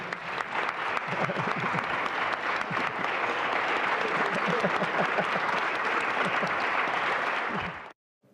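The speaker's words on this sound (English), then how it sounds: "Let us stand and give Minister Farrakhan a big round of applause." A large audience stands and applauds Minister Farrakhan, steady dense clapping filling the hall for several seconds before stopping abruptly, with a few voices calling out underneath.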